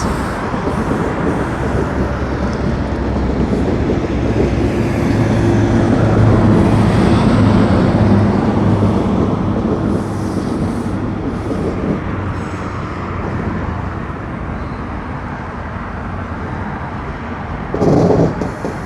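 A six-car train rolls past on the rails in Etobicoke near Kipling, Toronto, with a continuous rumbling, swelling and fading over many seconds, mixed with background traffic noise.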